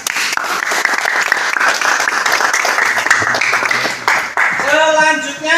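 A classroom of automotive engineering students gives a sustained round of applause, dense and close, with a voice speaking briefly near the end as the clapping fades.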